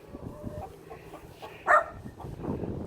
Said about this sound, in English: Rosie, come on, stop barking.